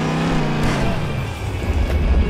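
A game car in Garry's Mod DarkRP revs and accelerates, a steady rising engine drone heard close and fairly loud with no talk over it.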